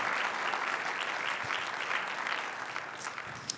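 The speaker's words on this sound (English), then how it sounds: "can we give a round of applause to CAPTI commissioners and reviewers?" Audience applause at the Cerasoli Lecture 2024 honouring CAPTI commissioners and reviewers: a dense, steady wash of many hands clapping that tapers slightly toward the end.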